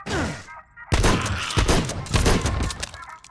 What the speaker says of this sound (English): Shotgun, close quarters.